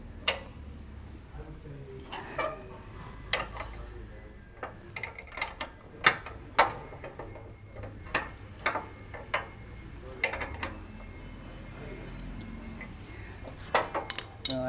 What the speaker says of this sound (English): we'll tighten up our bolts